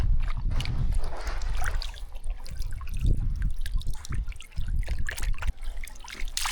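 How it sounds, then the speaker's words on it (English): A small stream trickles and burbles along a hiking trail in extreme heat, a continuous close water sound with scattered splashes and drips. "right up here is a little stream"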